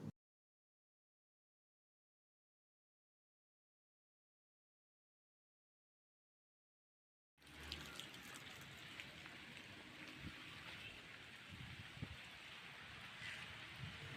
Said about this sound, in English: Let us go outside to watch actual rain.